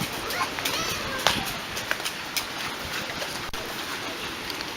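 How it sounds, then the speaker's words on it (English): Steady rain falls outside a house, a dense hiss of drops with scattered sharper splashes and a few faint bird calls, no voice heard. "It's been raining a lot."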